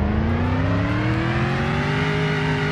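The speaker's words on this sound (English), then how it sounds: "So we're gonna rev it up." Car engine in the racing game Greenville revving up steadily, its pitch climbing smoothly from start to finish, loud and continuous with no talking.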